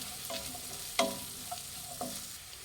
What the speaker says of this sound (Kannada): ಇದಷ್ಟೇ ಎಣ್ಣೆಲಿ ಚೆನ್ನಾಗಿ ಫ್ರೈ ಆಗಬೇಕು ಪಡವಲಕಾಯಿ.